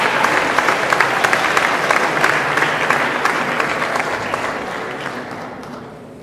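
Sustained applause from a crowd honoring graduates of a business administration program at a technical school graduation ceremony, steady and dense throughout, easing slightly toward the end.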